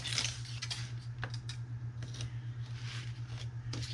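Scissors snip a Dollar Tree dry erase board in faint, quick cuts scattered over a steady low electrical hum.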